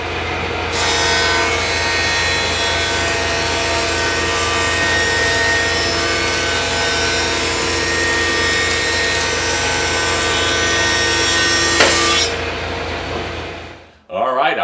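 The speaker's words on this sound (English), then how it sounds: "I'm going to put these together in pairs and run them through the planer" Pairs of cedar boards run through a wood planer, giving a loud, sustained whining roar with steady cutting noise for about twelve seconds before the machine winds down and cuts off.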